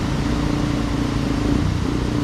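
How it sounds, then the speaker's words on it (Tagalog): Motorcycle engine labouring while crossing floodwater, a loud, steady, rough low-pitched drone mixed with splashing water noise that stays constant through the short span. "Ayan yung motor namin."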